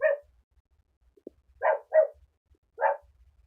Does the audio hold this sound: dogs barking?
yes